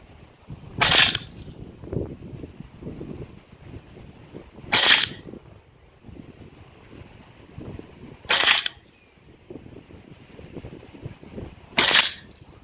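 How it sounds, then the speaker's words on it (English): Four sharp gunshots fired at a target line ring out at even intervals of about four seconds, each a crisp loud crack over a low rumbling outdoor background, with no talk. "I'm going to shoot at the bold line on the left side"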